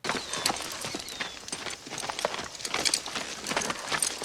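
Horse hooves clip-clop in a film scene, a steady run of sharp, fairly close hoofbeats with no voices over them.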